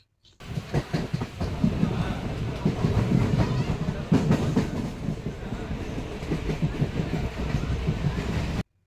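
A passenger train runs on the rails at night, heard from inside a carriage as a loud steady rumble with rhythmic clickety-clack of the wheels throughout.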